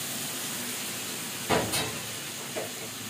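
Egg masala hisses steadily in a hot pan for a khichuri-and-egg-bhuna meal, with a sharp sizzling burst as a little water is poured in and a smaller flare shortly after.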